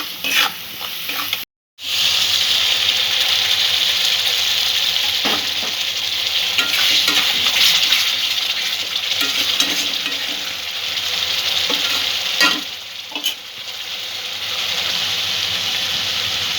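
Spice masala for a malai egg curry fries and is stirred in oil, a steady close sizzle with scraping strokes of the spoon throughout, broken by a brief gap near the start.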